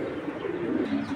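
A white racer pigeon coos close by, a low, throaty, continuous warble with no speech.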